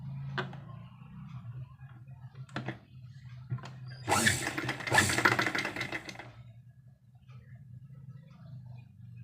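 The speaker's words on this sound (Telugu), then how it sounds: "ఇప్పుడు ఈ నాడాలని మనం ఇలా ఫోల్డింగ్ చేసుకొని స్టిచ్ అయితే వేసుకోవాలి" Sewing machine stitching a folded strip of leftover blouse cloth, heard as a few short mechanical clicks and then a couple of louder, close bursts of running, with quiet pauses between.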